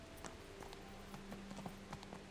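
A horse's hooves clip-clop at a steady walking rhythm in the medieval video game Kingdom Come: Deliverance, the soft regular thuds sitting over a quiet ambient background with no talking.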